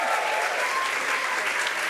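A studio audience at a Brazilian TV talk show bursts into steady, full applause that holds at an even level throughout, close and dense with no pauses.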